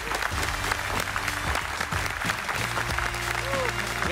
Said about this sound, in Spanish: Un aplauso fuerte para Germán Ortega